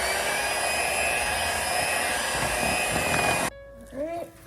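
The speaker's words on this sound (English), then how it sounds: "now you don't have to use a mixer" An electric mixer beats eggs into boxed brownie batter with a loud, steady, high whir for about three and a half seconds, then cuts off abruptly and a voice speaks briefly.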